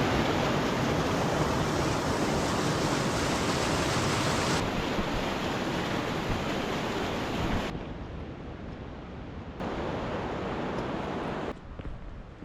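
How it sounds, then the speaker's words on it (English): Steady, loud rush of a river-fed waterfall in northern Sweden filling the whole clip, a constant broadband roar with no voices, briefly dipping in brightness partway through. "this fall is being fed by the river"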